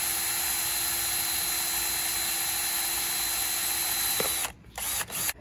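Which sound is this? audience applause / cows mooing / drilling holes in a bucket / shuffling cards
drilling holes in a bucket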